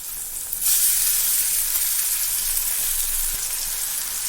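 Ginger garlic paste frying in hot oil over a medium flame, a steady loud sizzle that bursts in suddenly and holds as a continuous hiss with no talking.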